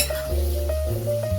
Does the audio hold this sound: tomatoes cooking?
yes